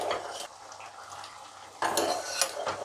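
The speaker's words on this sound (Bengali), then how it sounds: "এবার এর মধ্যে আমি পাস্তাগুলো দিয়ে দেবো।" Dry pasta tipped into a pot of boiling water seasoned with spices, a rattling clatter and stirring scrape with bubbling underneath, two close bursts separated by quieter simmering.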